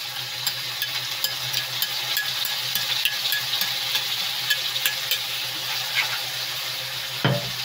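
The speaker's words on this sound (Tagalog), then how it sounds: "Haluin lang natin." Pork binagoongan being stirred in a pan with shrimp paste as it fries: a continuous close sizzle with scraping stir strokes and occasional ticks of a utensil against the pan, ending in a louder knock.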